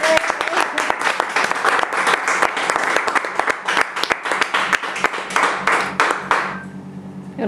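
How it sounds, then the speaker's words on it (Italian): An audience applauds a makeover show's grand finale with steady dense clapping and a few sharp louder claps, lasting several seconds, then fades out near the end as voices and room sounds take over. "Facciamogli un applauso."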